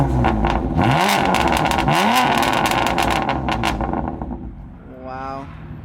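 A BMW F80 M3 engine fitted with VRSF catless downpipes, valves open, revs loudly and up close with two sharp throttle blips, then settles into a rumbling idle. A faint whine rises near the end.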